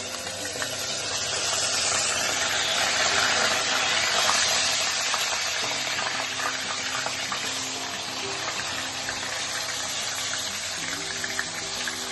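Ground onion paste sizzles steadily in a pan with cumin while rajma (kidney bean) curry is being cooked. The frying hiss stays continuous and fairly close, with faint background noise.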